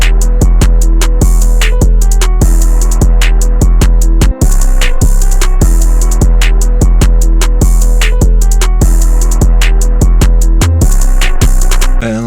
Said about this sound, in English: Here's that finished 808 pattern.